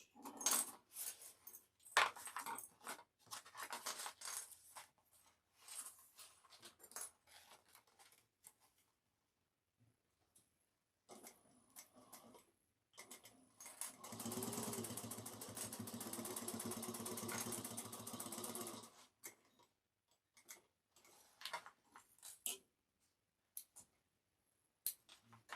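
A sewing machine top stitches the gusset panel of a bag, its motor running steadily for a few seconds mid-clip between scattered clicks and handling rustles.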